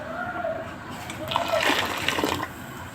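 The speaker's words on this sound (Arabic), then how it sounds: "زودت كمان شويه ميه" Water poured into a pot of fried onions and broth, a short gushing splash in the middle of the moment, close and moderately loud, with a voice speaking around it.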